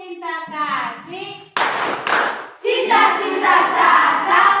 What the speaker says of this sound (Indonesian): Tepuk cinta kasih.